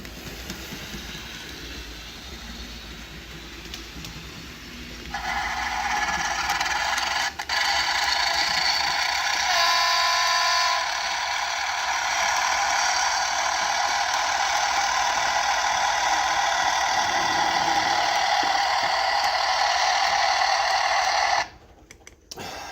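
A KR Models BR 10100 Fell model locomotive runs on a layout track with a steady whirring motor hum that starts abruptly and continues evenly for about fifteen seconds before cutting off.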